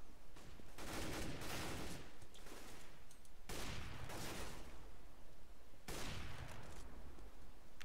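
Sustained gunfire from a CS:GO match at a Dreamhack tournament, with dense overlapping bursts of rifle fire in three long volleys, loud and continuous with no talking.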